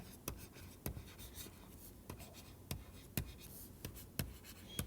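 Chalk or pen strokes as an equation is written out during a mathematics lecture, a series of faint sharp taps and scratches at an uneven pace, close and quiet with no voice.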